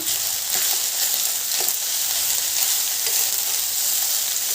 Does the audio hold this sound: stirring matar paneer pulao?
yes